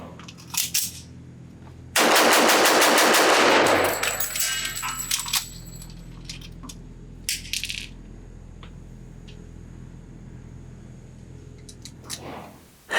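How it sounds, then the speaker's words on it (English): A Dornaus & Dixon Bren Ten Marksman Special .45 ACP pistol fires on an outdoor range in a brief, loud cluster of shots, followed by quieter metallic clicks and handling noises. "Let's once again see how fast I can shoot this and get the magazines changed out."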